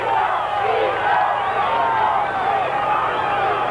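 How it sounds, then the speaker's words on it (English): Dense roadside crowd at a Pyrenees mountain stage of the 1986 Tour de France, roaring and chanting for Bernard Hinault, a continuous loud wall of voices with no pauses. "his partner today is Bernard Hinault, who races to the chants of his name."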